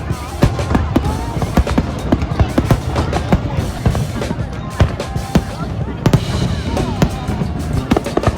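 Fireworks and firecrackers explode during Vietnamese Tet lunar new year celebrations in Ho Chi Minh City, a dense, loud barrage of sharp bangs and cracks in rapid irregular succession, with people's voices mixed in.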